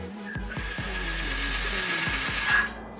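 Electronic exhaust valve actuator opening and closing, a whirring motor hum with a series of mechanical clicks and clunks as it cycles, heard close and alone.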